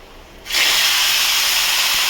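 Kajoli fish hit hot mustard oil with a sudden loud sizzle that bursts in after a quiet moment and then holds as a strong, steady hiss, close up with no voices.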